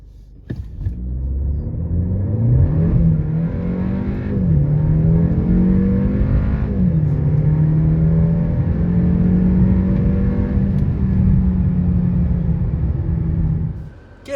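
A 2025 Kia K4 GT Line with its IVT automatic pulls away and cruises, its engine droning steadily with a rising pitch as it accelerates, heard from inside the car.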